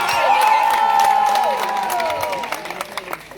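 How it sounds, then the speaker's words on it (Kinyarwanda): A fan crowd at a live music show cheers and applauds loudly, with high whoops and shouts over clapping that gradually thins out toward the end. "mukomera amashyi menshi"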